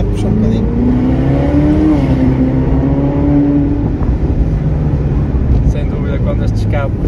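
Ferrari engine revving hard on the road, a loud sustained drone with pitch rising and falling under continuous engine roar, with voices audible over it.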